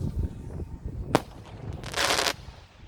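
Fireworks on Bonfire Night in Grangemouth: one sharp bang near the middle, then a bright crackling, hissing burst a moment later, over a low rumbling background.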